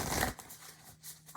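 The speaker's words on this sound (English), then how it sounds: "shuffle one more time" Tarot cards being shuffled, a brief papery riffle that is quiet and close, with no talking.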